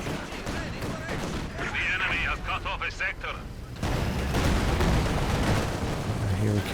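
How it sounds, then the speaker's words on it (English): Heavy mortar fire and battlefield explosions from the Company of Heroes 2 strategy game, a steady roar of distant blasts and impacts that grows louder partway through, continuing without any voice over it. "Got a heavy mortar team flare up for Deliri0us."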